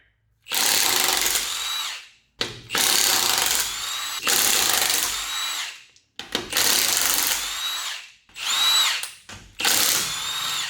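Impact gun rattling off the lug nuts on a VW Vanagon wheel, loud and close: six or so bursts of harsh high-pitched hammering, each lasting one to two seconds, with short silent pauses between them.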